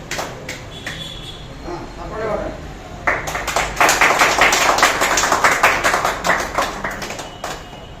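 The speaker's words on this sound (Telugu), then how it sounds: "ఇప్పుడు చప్పట్లు కొట్టండి." A crowd claps at an outdoor flag hoisting ceremony celebrating the Congress party's 139th foundation day, scattered claps swelling into steady close applause for several seconds, with voices talking underneath.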